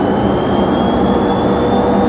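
A loud, steady engine roar with a rising high-pitched whine, sounding like a Fisker car accelerating hard in sport mode with a jet-like drone inside the cabin.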